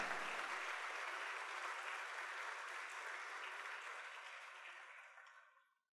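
A church audience claps in a sustained wash of applause, steady and even, then fades out over the last second.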